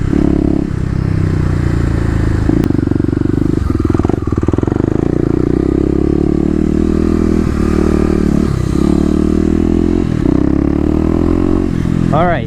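A Kawasaki KLX250 dirt bike ridden in an empty lot during second-gear wheelie practice drones with a loud, steady engine note close by, with shifts in pitch as the throttle rises and falls and a rising rev near the end.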